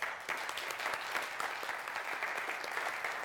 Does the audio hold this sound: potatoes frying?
no